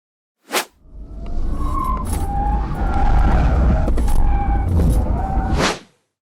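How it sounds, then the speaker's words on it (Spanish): 2023 Volvo XC40 Recharge Twin driving a slalom, a sustained loud tyre squeal with wavering pitched tones rising and falling, bracketed by short sharp bursts at the start and end. "vamos a ver cómo lo hace en el slalom y en la esquiva"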